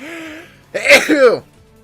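A single sharp sneeze bursts out after a moment of quiet breathing, loud and close, with a short two-part explosive burst.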